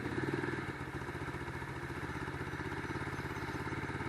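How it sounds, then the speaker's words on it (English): A Lifan KP Mini 150 motorcycle idles with the choke on after sitting all night. Its engine runs at a steady, rapid putter close by, with no voices. "Got her fired up. We'll turn the choke on for a minute."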